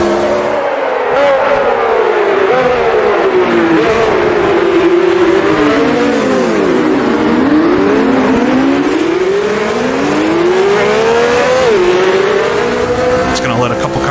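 A race car engine in the Automobilista 2 racing game at Spa 1970, revving loudly and continuously while the car downshifts and brakes for a chicane, with pitch dips and climbs and a voice talking over it.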